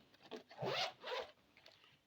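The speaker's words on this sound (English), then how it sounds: "Right, opening the zip" A zipper draws open on an electrical repair toolkit case in two quick, close strokes, the second slightly shorter, with a little rubbing around them in an otherwise quiet room.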